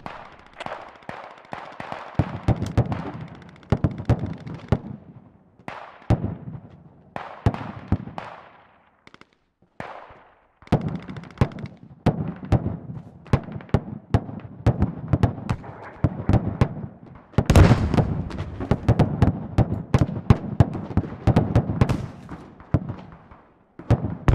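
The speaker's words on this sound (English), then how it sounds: "Shot over. Shots incoming." Incoming artillery pounds a battlefield in the video game Squad, many booming blasts and sharp cracks in irregular rapid clusters with brief lulls, loud and close, with a heavier burst of impacts midway.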